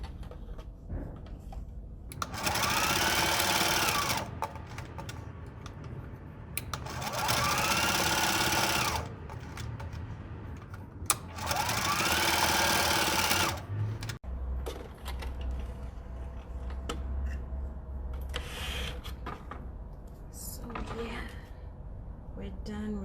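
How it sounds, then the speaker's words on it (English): Sewing machine top stitching close to the edge of a square fabric makeup wipe, three bursts of rapid whirring stitching separated by pauses, followed by a low hum and quieter handling noises. "So make sure that your top stitch is as close to the edge as possible."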